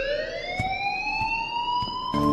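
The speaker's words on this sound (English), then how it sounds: "please turn off that alarm" A sustained electronic alarm tone in the video game Life Is Strange, a steady rising wail with strong harmonics and faint periodic ticks beneath, ringing continuously at close range with no talk.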